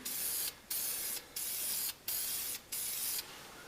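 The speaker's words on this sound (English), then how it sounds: "This is just the sandable primer first." Aerosol can of sandable primer sprayed onto a car's rocker panel in four short bursts and a final longer one, loud, close hissing with clear pauses between.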